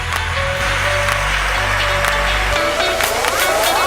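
A convention audience in the GalaCon main hall claps for a walk-on costume contestant, a dense, even round of applause over loud bass-heavy music and scattered whoops.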